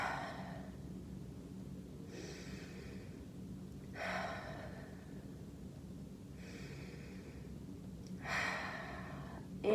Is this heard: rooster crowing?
no